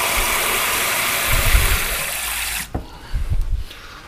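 Water pours into an Instant Pot pressure cooker, run down the inner side of the pot: a steady close splashing pour for about two and a half seconds, then stopping, followed by a few soft clunks and handling noises.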